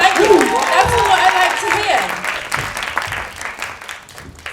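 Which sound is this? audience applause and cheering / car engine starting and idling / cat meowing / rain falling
audience applause and cheering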